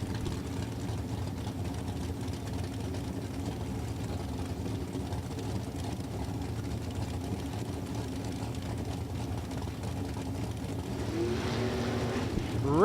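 Drag racing engines from a 1955 shoebox Chevrolet with a 565 cubic inch motor and a Chevrolet Corvette drone steadily at a distance, then swell louder toward the end as they rev up, with no talking.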